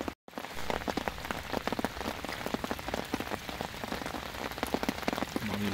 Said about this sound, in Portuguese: Começou a chover